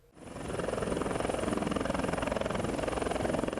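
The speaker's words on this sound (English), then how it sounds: "The chopper conveying the Vice President, Professor Yemi Osinbajo, and 4 ministers landed at about 10:30 a.m." A helicopter carrying the Nigerian Vice President and four ministers lands at the Dangote industrial area in the Lekki Free Trade Zone, Lagos, its rotor chop swelling quickly into a steady, loud, pulsing roar with no voices.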